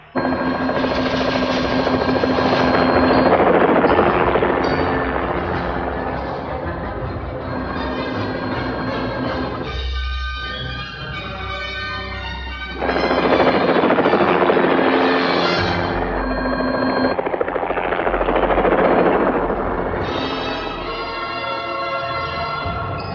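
A helicopter flies overhead in a loud, continuous whirring roar with a rhythmic rotor chop, swelling and fading briefly before building back to full strength.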